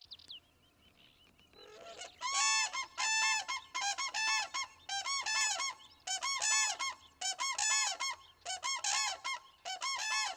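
Geese and ducks call in the northern wetlands of Spain, a steady run of loud, close honks repeating in quick bursts over a quiet background.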